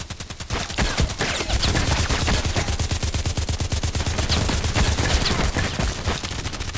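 Rapid automatic gunfire in the shooter game Contract Wars, a loud unbroken stream of evenly spaced shots hammering on for several seconds with no talk over it.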